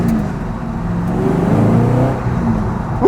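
An Ultima RS sports car's engine pulls hard under acceleration, a loud close-up droning roar with the pitch climbing steadily through the revs.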